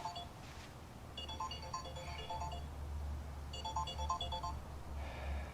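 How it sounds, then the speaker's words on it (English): Mobile phone ringtone of an incoming call, two melodic bursts of repeating electronic notes separated by a pause, moderately loud over outdoor background noise while someone trims a sago palm. "Phone call."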